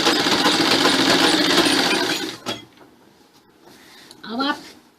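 A sewing machine stitches plain salwar fabric with a dense, rapid whirring run for about two seconds, then stops, leaving quieter handling sounds and a short voice.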